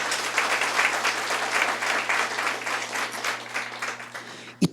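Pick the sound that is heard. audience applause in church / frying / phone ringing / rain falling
audience applause in church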